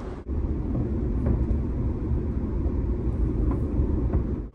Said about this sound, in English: tonight I'm on a nice and empty GO Transit GO Train car.